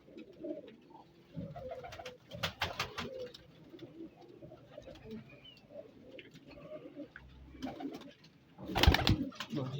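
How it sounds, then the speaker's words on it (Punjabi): A pigeon coos softly in low, rolling phrases while people talk close by, with sharp knocks and handling noises breaking in at intervals. "ਇਹ ਵੀ ਕਬੂਤਰ ਆ"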